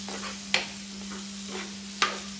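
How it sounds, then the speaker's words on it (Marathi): Curd is stirred into paneer tikka masala in a pan, where a soft sizzle runs under two sharp spoon clinks against the pan and gentle scraping strokes, with a low steady hum throughout. "अर्धा वाटी दही, हे सुद्धा छान असं मिक्स करून घेऊयात"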